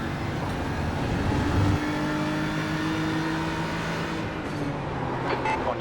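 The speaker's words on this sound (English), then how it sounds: "There's a faster car approaching." A sim race car engine in iRacing during an IMSA iRacing Series race, another faster car closing in; a loud, steady, close engine drone with sustained tonal harmonics runs throughout, with no talking.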